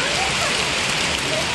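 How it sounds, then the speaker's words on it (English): Heavy rain pouring down outdoors on a ride through Munnar, Kerala, a dense, steady hiss of drops that fills the whole moment loudly and evenly, with no talk over it. "So it has started raining now"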